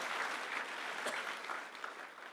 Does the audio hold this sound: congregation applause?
yes